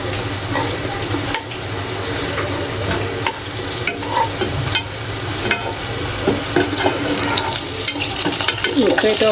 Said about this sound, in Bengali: এই দেখো এইগুলো ভাজা হয়ে গেল আমার